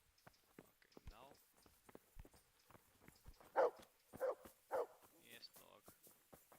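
Three loud, short dog barks from a video game set in medieval Bohemia, spaced about half a second apart over scattered footsteps and game noise, with someone talking quietly nearby.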